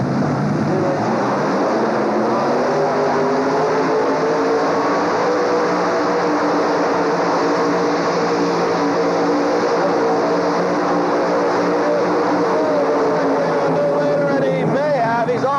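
Modified 7,000-pound class tractor roaring through a pull at the 1985 Indy Super Pull, a loud sustained engine howl that climbs in pitch across the run, with crowd and arena noise beneath.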